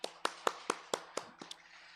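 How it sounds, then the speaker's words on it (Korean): A congregation at a Wednesday church worship service gives a short round of encouraging claps, about eight sharp, evenly spaced slaps that thin out and fade toward the end, close and alone with no talking. "우리 격려의 박수 한번 하고 시작하겠습니다"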